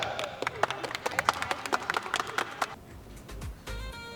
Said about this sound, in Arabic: سمونا تصفيق عليها عاد.